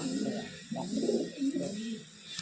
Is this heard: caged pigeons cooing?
yes